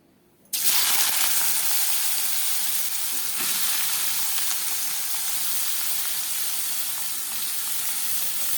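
Thinly cut potatoes hit hot oil in a pan with a sudden loud hiss, then sizzle and crackle steadily and close for several seconds with no talking.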